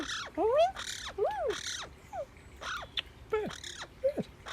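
A pet bird squawks and caws in clipped, raspy bursts at close range, with a person's higher whooping calls woven between them.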